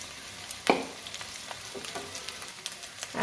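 New potatoes fry with turmeric in hot oil, giving a soft crackling sizzle broken by a few sharper clatters and scrapes of stirring, close and fairly quiet with no talk.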